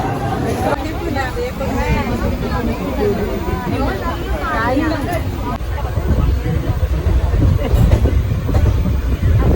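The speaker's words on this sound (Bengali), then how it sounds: "চলো ট্রেনে এসে গেছে অপেক্ষার অবসান" A train pulls into a busy railway station with a low rolling rumble and clatter, heard beneath constant crowd chatter and nearby voices on the platform.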